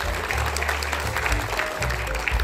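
Audience applause in a conference hall welcoming a government official to the stage at a public procurement export fair, steady continuous clapping from a crowd throughout, with low hum beneath.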